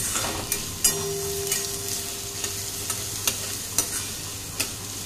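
Onions frying for egg bhurji pulao, a steady soft sizzle beneath regular spatula scrapes and taps against the pan, about one every half second, close and moderately quiet; no talk.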